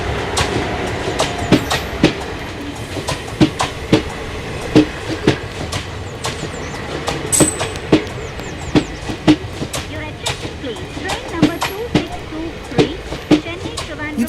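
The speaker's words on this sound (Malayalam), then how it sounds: "ട്രെയിൻ വന്നു." The Howrah Express rolls into a railway station with loud, close clickety-clack as its wheels beat over the rail joints in a steady rhythm, under a continuous rumble and occasional faint squeals.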